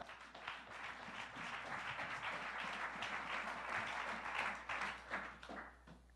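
A church congregation claps and cheers together in a dense, continuous wash of applause that swells and dips, with voices mixed into it.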